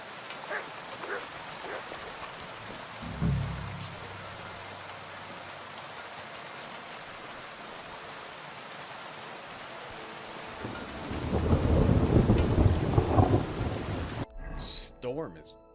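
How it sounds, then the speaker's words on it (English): Thunderstorm with rain in the video game Kingdom Come Deliverance 2: a low steady patter of rain throughout, a brief thunder rumble early on, then a heavier rolling thunderclap near the end before the sound cuts to quiet. "Storm is insane."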